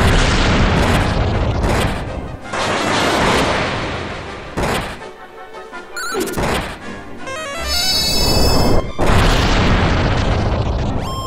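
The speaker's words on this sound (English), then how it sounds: "Let's go with kaboom, double kabooms, man." Kaboom spells in the video game Dragon Quest V go off in a series of loud, booming blasts broken by short lulls, with a bright chiming flourish partway through.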